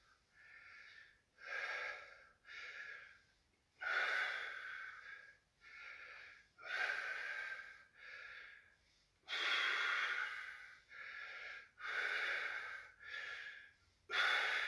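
Heavy, rhythmic breathing during a shoulder and traps workout, with loud, close, forceful exhales and gasps repeating about every second or two and short quiet gaps between them.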